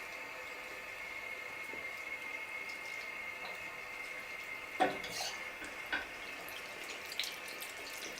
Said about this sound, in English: I'm going to go ahead and rinse the brush out, and I'm going to use cold water to make sure I really get the soap out.